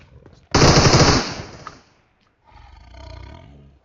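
Automatic gunfire in the mobile battle royale game PUBG Mobile erupts in one loud, dense burst lasting about a second and a half, then fades; a quieter stretch of game sound follows.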